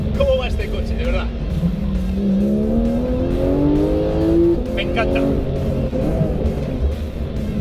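A rear-engined Porsche 911 GT3 on a race circuit, its engine note climbing steadily through the revs in a loud, continuous pull before easing off, with a voice briefly talking over it.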